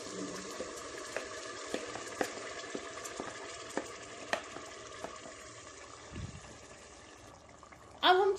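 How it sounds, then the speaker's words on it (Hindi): Marinated chicken fries on a high flame, giving a faint continuous sizzle with light clinks and stirring scrapes, then a louder burst near the end. "अब हम चिकन को बहुत अच्छे से भून लेते हैं। हाई फ्लेम पे ही भूनते रहिए।"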